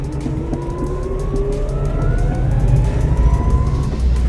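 An electric-converted 1963 Volkswagen Beetle drives in gear, its motor whine climbing steadily in pitch over a constant rumble of road noise, heard close up with no one speaking.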